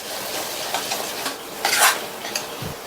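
A spoon stirs chili and turmeric powder into tomato gravy in a pan, with scraping strokes, light sizzling and a few clinks of metal against the pan, close up and without talk.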